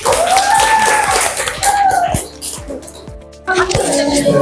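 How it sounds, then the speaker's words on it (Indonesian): Classroom applause for a student group's presentation, a dense burst of clapping from many hands that fades briefly near the middle, then picks up again, with children's voices mixed in. "Beri aplaus untuk penampilan kelompok 3"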